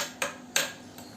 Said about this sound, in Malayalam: ഇനി നല്ലതുപോലെ മിക്സ് ചെയ്ത് കൊടുത്തതിന് ശേഷം കുക്കർ അടച്ച് നമുക്ക് ഇതൊന്ന് വേവിച്ചെടുക്കാം